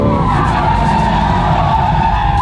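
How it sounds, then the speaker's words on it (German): A Corvette C8 mid-engine sports car drifts with its tires skidding, a loud continuous screech close by over a steady engine roar for the whole stretch. "Ja, es ist nicht so einfach zu driften wie sonst immer"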